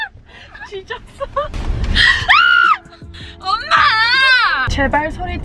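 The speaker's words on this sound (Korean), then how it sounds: "제발 소리 지르지 마." Loud, high-pitched screams from people in a Korean-language conversation, with several long wailing cries rising over ongoing talk and laughter. Shorter yelps break in between.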